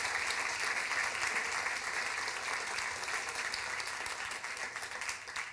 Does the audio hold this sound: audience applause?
yes